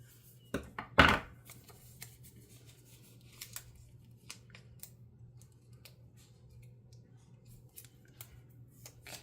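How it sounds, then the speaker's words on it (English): Scissors snip through a paper flower sticker for a planner with a few sharp, close cuts near the start, then the room falls quiet over a low steady hum with faint small taps. "I think I'm going to cut just a bit off"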